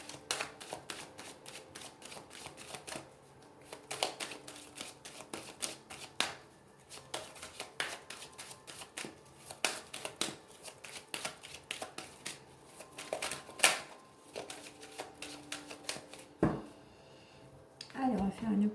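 Oracle cards being shuffled by hand during a tarot-style reading, a long run of rapid, close papery riffling and slapping that comes in uneven bursts, with a voice speaking faintly at times.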